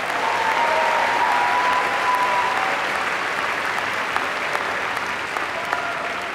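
Sustained applause from a large audience at a Stanford Graduate School of Business diploma ceremony, a dense steady wash of clapping that holds evenly, then thins slightly toward the end.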